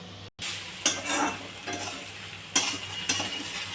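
Potato and teasel gourd frying in a pan, a steady soft sizzle broken by a few sharp scrapes and knocks of a spatula stirring the vegetables, close and with no voices.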